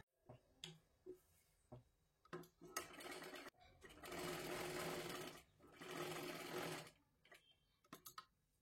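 A domestic sewing machine stitches a princess blouse slowly, its motor whirring in several separate runs, two long continuous bursts in the middle, with short taps and clicks from handling between them and no talking.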